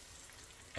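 Puerto Rican queso frito fries in a pan on the stove at medium heat, a faint, even sizzle throughout with a brief louder rustle at the end.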